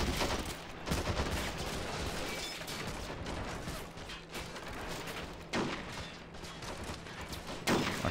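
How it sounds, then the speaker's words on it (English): Sustained gunfire in Men of War (Planetside 2 mod) during a bridge assault, with a constant roar of shots punctuated by a few louder cracks near the middle and end. "Our sniper's getting to work."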